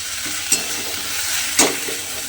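A spoon stirs tomato paste into a frying cauliflower and soybean curry, giving a soft steady sizzle with two brief scraping clinks, close and alone.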